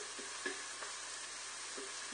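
Onion softening in a pot, a steady quiet sizzle of frying with faint stirring scrapes, alone without voices.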